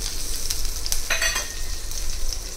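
Small shallots sizzle steadily in coconut oil with curry leaves, frying in a pan for a Kerala ulli theeyal, with a few brief stirring scrapes over the continuous close hiss.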